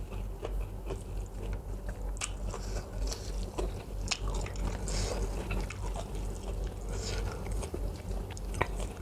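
Close-up chewing and biting of banana blossom eaten with rich coconut milk noodles and fish balls, soft crunches and wet mouth sounds repeating steadily with no talking.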